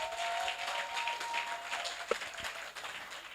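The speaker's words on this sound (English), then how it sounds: "let's give ourselves a big round of applause" Sustained crowd applause at a gathering with speeches, a dense steady wash of many hands clapping for the full few seconds, moderately loud and without talk, over a faint steady hum.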